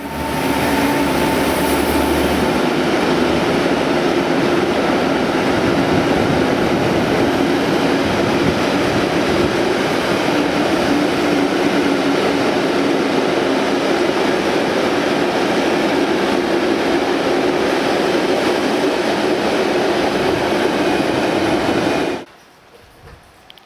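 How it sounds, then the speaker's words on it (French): A Desiro multiple-unit train from Ljubljana rolls into a station with a sustained, loud rumble and rail noise for over twenty seconds before suddenly dropping to quiet. "notre train, qui est aussi une rame Desiro, en provenance de Ljubljana, rentre en gare."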